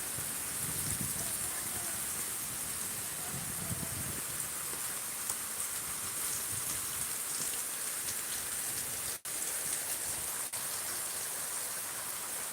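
Steady heavy rain falls on a grape vineyard near Miraj, a thick unbroken wash of drops hitting leaves and ground, close and loud, with one brief dip near the end and no voices.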